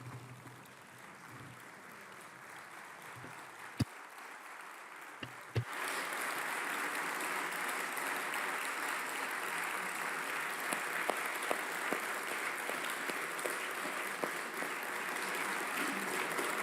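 A conference hall audience applauds in tribute to the Ukrainian people, opening with a few scattered claps over room noise, then swelling into steady, sustained applause that fills the room for more than ten seconds.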